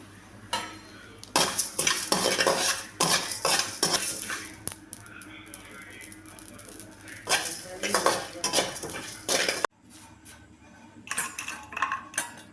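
Cinnamon, cloves and coriander seeds dry-roasting in a pan, with repeated scraping and clinking of a metal spoon against the pan in uneven bursts and a faint sizzle beneath, close and moderately loud.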